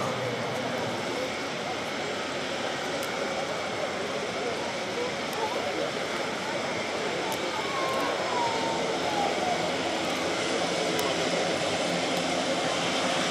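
Airbus A400M military transport aircraft at an air show: a steady, fairly loud engine drone holds throughout at a distance, with a German announcer's voice running over it.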